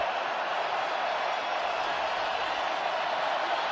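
Stadium crowd at an NFL game between the Denver Broncos and Houston Texans, a dense, constant roar of many voices filling the whole stretch without pause.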